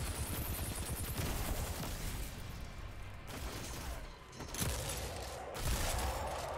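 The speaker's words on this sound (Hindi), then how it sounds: "शॉटगन।" Shotgun blasts in Destiny 2 come in rapid, dense bursts amid heavy in-game combat noise, loud and close, with brief gaps between volleys.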